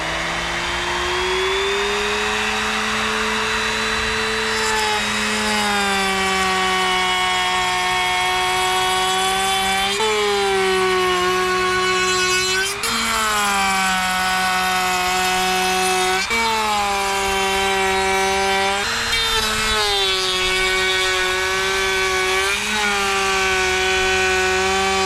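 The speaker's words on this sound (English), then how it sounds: "we're going to go ahead and take our beveled edge router bit and router the edges" Router fitted with a beveled edge bit cuts along the edges of wooden boards for a large table, a loud continuous high whine with steady harmonics that dips and recovers in pitch as the bit bites into each pass, with no talking.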